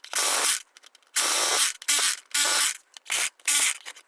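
Plaster is chipped away around the edges of an electrical wall box in a series of five or six short, harsh scraping bursts with brief pauses between, close and without talk.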